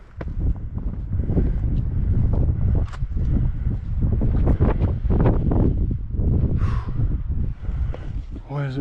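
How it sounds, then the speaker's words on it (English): Strong wind buffets an outdoor microphone in loud, continuous rumbling gusts on a road trip, with indistinct voices faintly mixed in beneath the roar. "Why is it windy?"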